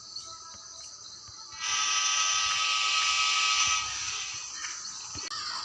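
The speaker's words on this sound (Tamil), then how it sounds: "ட்ரெயின் வருது." A train passes in a spider horror multiplayer video game. A low rumble swells into a loud, sustained horn-like drone for about two seconds, then eases back to a quieter rumble.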